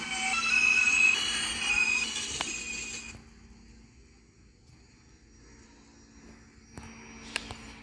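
A Roblox Transit City 3 subway train's high screeching hiss fills the first few seconds and fades away, leaving quiet rumble and a few sharp clicks.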